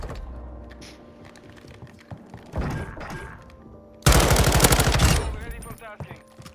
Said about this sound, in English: Don't get too confident with that shotgun.